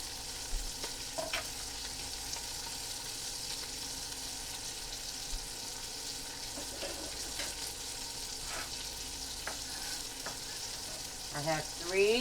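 Pinto beans cooking in a pan keep up a continuous sizzle with scattered stirring clicks and a faint watery burble near the end.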